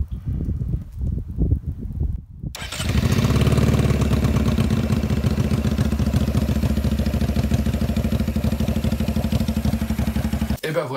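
A Honda Shadow bobber motorcycle engine cranks with a few sputters, then catches and settles into a loud, steady, rumbling idle close by that runs without a break to the end.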